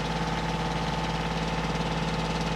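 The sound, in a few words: tractor engine idling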